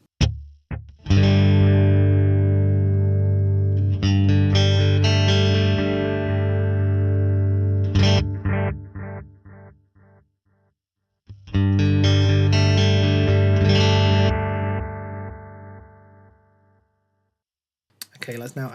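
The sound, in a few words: guitar through Fractal FM3 graphite copy analog delay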